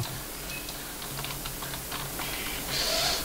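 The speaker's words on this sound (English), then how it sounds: "Sorry if you guys hear my keyboard. My keyboard is noisy." A noisy computer keyboard, fast faint clicking keystrokes in uneven bursts during a Minecraft session, close to the mic over a low background hum, with no talking.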